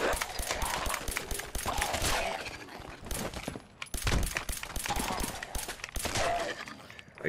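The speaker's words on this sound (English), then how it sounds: "I do like this incendiary pistol." Incendiary pistol fire in Fallout 4: repeated sharp, loud shots in quick bursts, layered with dense game action noise throughout.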